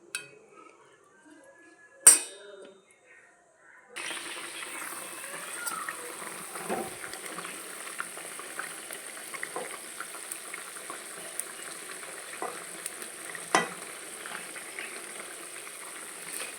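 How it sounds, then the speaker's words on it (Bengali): Cauliflower and other vegetables simmer in a pan for a rohu fish curry, giving a steady, quiet bubbling sizzle that starts after a utensil clatter and continues throughout. "এবার আমি কপিটা দিয়ে ভালো করে সেদ্ধ করতে দেবো সবজিগুলো।"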